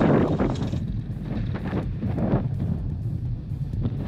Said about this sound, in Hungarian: Kicsit fúj a szél